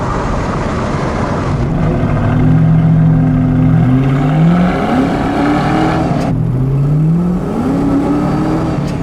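A 2004 Ford Mustang GT with 172K miles accelerates hard from inside the cabin, the V8's rising drone climbing in pitch through a kick-down, then dropping as it shifts into second gear and pulls again, loud and steady with no talk.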